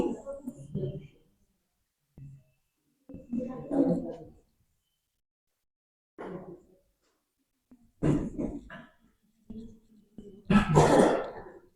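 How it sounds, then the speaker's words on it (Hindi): Several bursts of coughing and throat clearing come from nearby, scattered across the stretch with pauses between them, under and between some talk. "किसको खांसी आ रही?"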